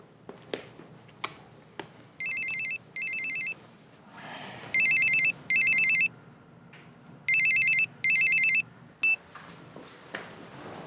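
An office telephone rings for an incoming call, giving three pairs of electronic ring bursts at regular intervals, close and clear over a quiet room with a few soft taps and knocks between rings.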